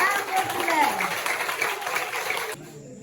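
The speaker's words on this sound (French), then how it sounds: "applaudissez." An audience at a French school quiz contest breaks into lively applause, a dense burst of clapping with some voices mixed in, fading abruptly after about two and a half seconds.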